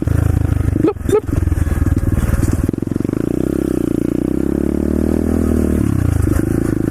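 Pit bike engine on a trail ride, loud and close, revving and dropping with clattering, a sharp burst near the start, then a sustained buzzing drone that varies in pitch as the rider works the throttle.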